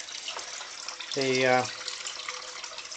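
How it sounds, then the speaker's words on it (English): Continuous splashing and trickling of water flowing through an indoor garden pool near a conservatory, heard close by while someone briefly speaks over it. "water then flows through under the bridge outside."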